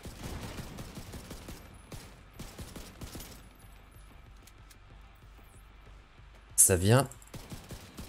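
Gunfire bursts in the video game The Division 2: faint scattered shots and a sudden loud rapid burst near the end, with someone talking in French over the action.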